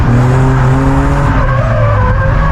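A BMW E36 drift car at a drift event revs hard under acceleration, its engine note climbing in loud harmonic sweeps while the tires squeal and skid continuously, close and dominant throughout.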